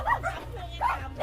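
A dog on a chicken farm in Washington gives a few short yips and whimpery barks close by, spaced across a brief moment with faint room noise beneath.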